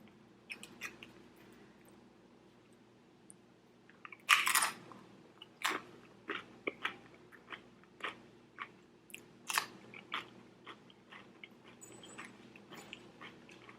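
Someone eats homemade copycat Chipotle guacamole, with quiet, close chewing and a series of soft crunchy bites spaced about half a second to a second apart.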